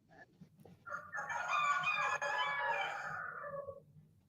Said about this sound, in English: we got a few roosters going now